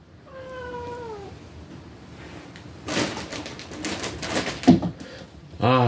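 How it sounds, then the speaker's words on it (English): A house cat meows at the start with a drawn-out, wavering call, then stays quieter under video game noise and a man's speech. "Yeah, that's my cat, by the way."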